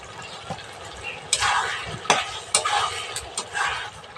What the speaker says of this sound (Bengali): বেগুনগুলো দিয়েও আমি একটু ভালো করে আস্তে আস্তে জার করে কষিয়ে নেব